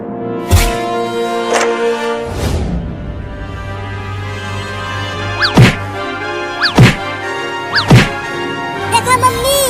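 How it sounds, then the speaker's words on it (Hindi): A cat banging against a closed door from outside, giving a few hard thumps spaced apart over a steady background, with louder strikes near the end. "वो कमीनी बिलार दरवाजे को कैसे मार रही है"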